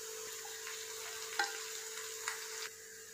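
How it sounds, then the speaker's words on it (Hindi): Chopped onion fries in a pan over a moderate flame, a soft continuous sizzle with a steady hum beneath and a few faint clinks and stirring knocks, heard without any talking. "प्याज को हम 2 फ्लेम पर भूनेंगे। प्याज भून रहा है"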